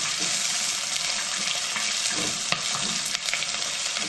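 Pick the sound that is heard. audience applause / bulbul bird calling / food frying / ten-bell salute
food frying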